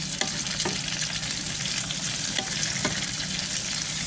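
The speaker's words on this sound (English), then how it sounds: "so now I'm gonna add the red and orange pepper" Red and orange peppers fry in a pan with a steady, even sizzle and a few faint clicks of stirring, alone and fairly quiet.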